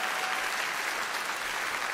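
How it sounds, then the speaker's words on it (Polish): Enthusiastic applause from a concert audience greets a jazz trio at its 30th anniversary jubilee concert, a dense, steady clapping from a crowd in a hall. "Wielkie brawa!"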